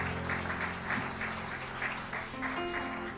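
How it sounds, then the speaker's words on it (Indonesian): Congregation applause during an online Sunday church service, a steady soft patter of many hands under a sustained musical tone, fairly quiet and continuous. "Berikan tepuk tangan dulu buat Tuhan, boleh?"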